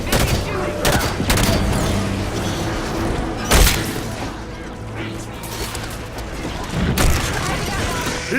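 Heavy gunfire in the Halo 5 Guardians combat campaign: bursts of automatic weapons fire and loud booming impacts, with spoken voices and game sounds mixed underneath.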